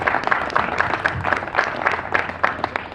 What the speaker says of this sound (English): So let's just give Heritage Square a round of applause.